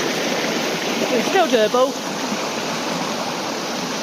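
A stream flows at a river crossing point on a calm day, a loud, steady rushing of water close by, with a person briefly talking over it.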